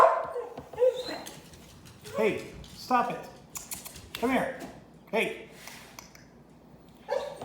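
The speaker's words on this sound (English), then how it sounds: "my dog is going nuts" A pet dog indoors barks in bursts, loud and close, while a man repeatedly scolds it and calls it over.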